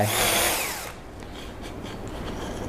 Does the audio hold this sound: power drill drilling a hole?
yes